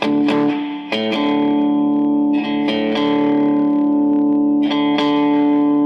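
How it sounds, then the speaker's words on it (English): A Vox AC15 guitar amplifier plays sustained guitar chords through its spring reverb, loud and close, with repeated strums that leave a washy, lingering tail. "Reverb's working."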